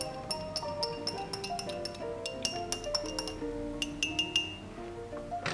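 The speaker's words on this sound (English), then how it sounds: "Just give that a quick stir." Gin being stirred with ice in a glass for a Lucky Jim cocktail, giving a run of bright, irregular clinks and taps over steady background music.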